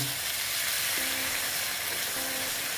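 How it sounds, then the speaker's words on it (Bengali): Water is added to moong dal cooking in a pan, giving a steady hiss of steam and sizzle with faint tonal bubbling underneath. "এখন আমি এখানে একটু জল দেব।"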